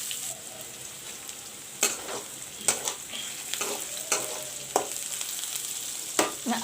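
Slit chilies frying in a pan with a steady low sizzle, broken by several sharp scraping clatters as they are stirred at irregular intervals, close and clear.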